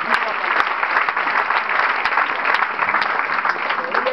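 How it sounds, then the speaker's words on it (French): A church congregation applauds and cheers loudly and continuously, a dense wash of clapping with sharp individual claps standing out, filling the whole stretch. "On acclame très fort le roi des rois."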